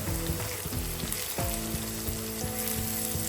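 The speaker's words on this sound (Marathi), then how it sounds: "मसाले चांगले तळून घ्यायचे." Ground spices frying in oil make a continuous sizzle. A steady harmonic hum lies under it, with a brief dip partway through and no voices.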